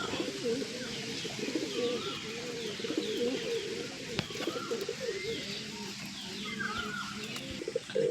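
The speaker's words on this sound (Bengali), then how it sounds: "এটা খৈরি চোখের নর, এটা নর ডাকছে দেখেছ" A male brown-eyed pigeon cooing, with repeated low rolling coos close by and a few faint chirps from other birds in the background.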